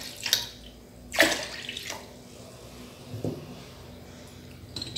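Milk pours into a Moulinex blender jug while making no-knead crêpe batter, a brief splashy gush near the start followed by quieter liquid trickles and a few clinks, no talk.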